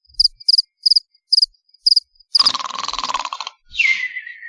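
Cricket chirps come in short, evenly spaced bursts, then a dense continuous trill and a falling chirp follow, close and clear against silence.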